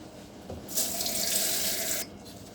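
Running tap water pours steadily into a sink for about a second and a half while something is rinsed under it, close and clear, then the flow stops.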